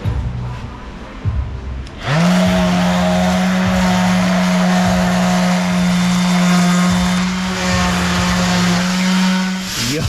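A DA (dual action) sander finishes a small machined metal fitting for a car, a loud steady motor whine that starts abruptly and runs continuously for several seconds close up.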